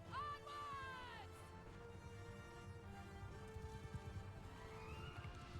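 Horses galloping in Mount and Blade II: Bannerlord, a soft, continuous patter of hooves with a whinny or two, beneath game music and a brief shouted command.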